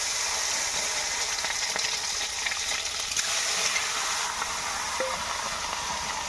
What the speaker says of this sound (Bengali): তো ডিমে শুধুমাত্র লবণ মেখে আমি ডিমগুলো ভাজবো।